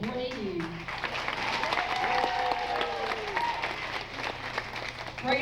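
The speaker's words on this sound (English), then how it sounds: "Give them a big round of applause." Audience applause at a Universal Studios show, steady clapping from a crowd lasting throughout, moderately loud with some cheering voices mixed in.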